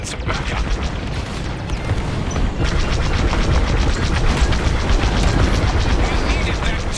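A broadcast dish blowing up in the Star Wars Squadrons space combat game: a continuous roar of explosive rumble with crackling bursts that builds louder partway through, while voices seem to be present under the blast.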